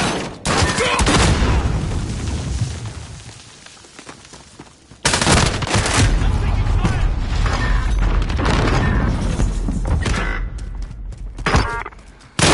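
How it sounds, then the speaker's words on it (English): A grenade explosion and surrounding gunfire in the Modern Warfare shooter on PS4 Pro: loud broadband booms and bursts of shots, a drop into quieter rumble midway, then renewed heavy blasts and firing with voices mixed in. "Grenade out!"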